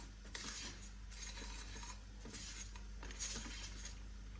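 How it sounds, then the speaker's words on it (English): Pork belly pieces and seasonings mixed in a bowl with a utensil, faint scraping and soft clinks in a quiet, steady stir with no talking. "give it all a good mix"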